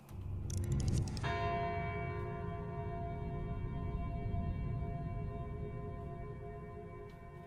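A single bell in Knytt Underground, a video game, strikes once with a clear attack and then rings on in a long, steady, slowly fading resonance with no other sounds.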